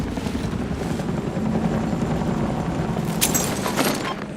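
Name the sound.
helicopter in video game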